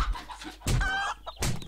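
A chicken in the survival video game 7 Days to Die gives a few short clucking calls in quick bursts, close and clear, with no talk over it.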